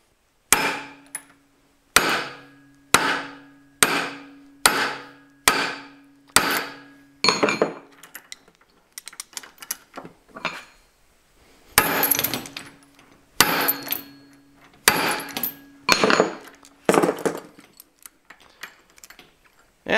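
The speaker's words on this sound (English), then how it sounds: "See if we can hammer this closed anymore." A logging chain link is hammered closed with a series of sharp, ringing metal blows, steady at first and then more irregular, loud and close with no talk.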